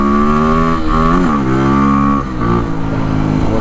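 A Kawasaki KLX300R dirt bike with an FMF Powercore exhaust and open airbox runs close and loud, its single-cylinder engine revving up and down through gear changes with a raw, buzzing exhaust note.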